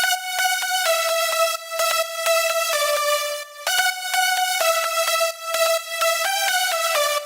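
Heavy synth lead layer with a slight click on each note, playing a fast, bright melodic pattern of short repeated notes with rich overtones, loud and up front, no speech.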